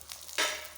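A red amaranth leaf paratha hisses as oil hits the hot pan, a sudden sharp sizzle bursting out partway through a brief moment and fading slightly.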